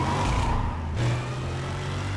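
Car engine revving in the racing game Need for Speed: World, a steady loud drone with a shift in pitch about halfway through, continuous with no pauses and no voices.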